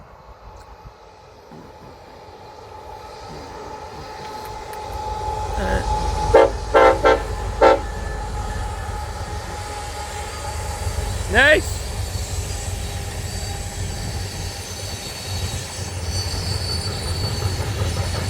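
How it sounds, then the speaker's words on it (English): A coal freight train rumbles past in the Powder River Basin, growing louder, with several short horn toots and a brief wheel squeal over the steady rolling roar; a voice speaks briefly. "Here's the first coal train."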